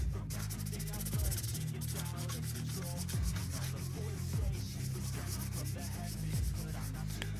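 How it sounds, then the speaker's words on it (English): 600 grit sandpaper rubbing over the chalky coat on a Nerf blaster, a continuous close scratchy scrubbing with rhythmic back-and-forth strokes under a steady low background hum. "I'm coming in with 600 grit to finish the chalky coat."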